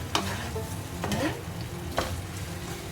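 Chili chicken stirred in a pan, a soft continuous sizzle punctuated by three sharp scrapes of a utensil against the pan.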